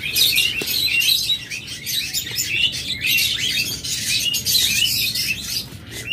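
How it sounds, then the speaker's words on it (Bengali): A flock of caged pet birds for sale, including budgerigars, diamond doves, lovebirds and cockatiels, chirps and tweets busily in dense, overlapping bursts, fairly close and loud, with no talking. "এগুলো প্রত্যেকটা রানিং পাখি"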